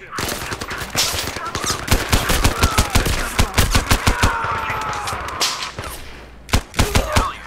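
Gunfire from the VR shooter game Zero Caliber, with dense bursts of rapid automatic shots and scattered single cracks, loud and continuous for several seconds, followed by a final cluster of shots.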